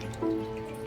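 Water drips briefly while a potted Philodendron melanochrysum cutting is watered, giving a single soft drip over a quiet, faintly humming room.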